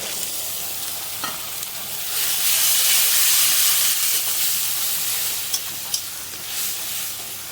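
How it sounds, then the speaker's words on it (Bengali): Ginger garlic paste fries with onions in a pan, giving a strong steady sizzle and hiss that swells louder midway, with a few sharp clinks of the stirring spoon near the end. "আদা রসুনটাকে ভালো করে ভেজে নিতে হবে"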